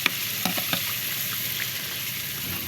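Chili garlic sizzles in a hot pan while a spoon stirs it, with a few sharp scraping taps over the steady crackle.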